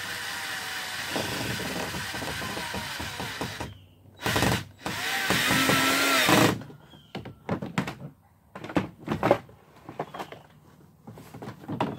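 A handheld power drill drives screws into a plastic barrel canoe with PVC ribs, loud whirring bursts separated by pauses, followed by several short clicks and knocks of handling nearby.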